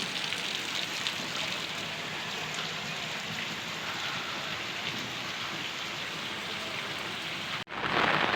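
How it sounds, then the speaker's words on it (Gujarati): Heavy monsoon rain pours steadily at home after about fifteen hours of nonstop downpour, a dense, continuous roar of falling water with no voices, broken only by a momentary dropout near the end. "કાલ રાતનો એક ધારો વરસાદ શરૂ છે।"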